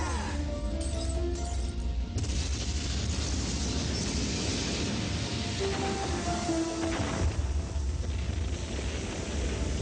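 A fortress collapses in a video game with deep continuous rumbling and crashing explosions, a dense roar that fills the whole stretch, with faint musical tones layered underneath.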